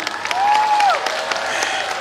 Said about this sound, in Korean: 뜨거운 박수 한번 부탁드려도 될까요?